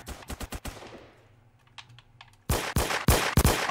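Video game gunfire in an assault-class match: a few sharp shots ring out early, a quiet gap follows, then a loud string of rapid, close shots.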